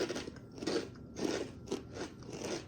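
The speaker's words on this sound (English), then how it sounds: "Very crunchy, even by kettle standards. This is really crunchy." Select Kettle BBQ kettle-cooked potato chips are crunched up close, with repeated loud, crisp bites and chewing in an uneven rhythm and no talk.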